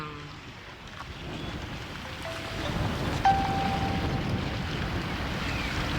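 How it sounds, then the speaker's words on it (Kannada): Ghataprabha River overflowing from the first dam, Fatakwadi, after heavy rain: a steady broadband rush of water swelling slightly midway, with wind noise and faint tonal whistles, no talk. "ಮೊದಲ ಡ್ಯಾಮ್ನಿಂದನೇ ಘಟಪ್ರಭಾ ಹೇಗೆ ಉಕ್ಕಿ ಹರಿತಾ ಇದ್ದಾಳೆ"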